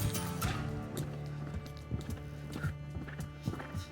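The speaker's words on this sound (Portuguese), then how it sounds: "Manter relaxado aqui no galope rápido, de rédea solta." A horse galloping fast on a reining training track, loose-reined, its hoofbeats thudding in a steady rhythm with a constant background hum, no talking.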